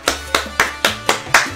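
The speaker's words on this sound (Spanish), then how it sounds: "un aplauso para Silvia" Six sharp, evenly spaced hand claps at about four per second mark applause for a raffle winner, close and crisp with short gaps between them.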